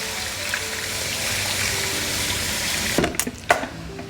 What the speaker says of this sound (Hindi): इसमें पहले मैं पानी डालूँगी